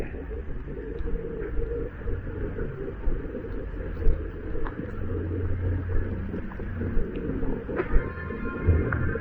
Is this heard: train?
yes